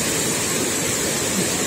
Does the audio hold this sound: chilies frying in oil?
no